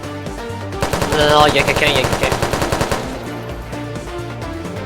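Automatic turret gunfire in an SCP site roleplay video game, a rapid steady burst of shots over game music and ambience, with a person speaking briefly in the game.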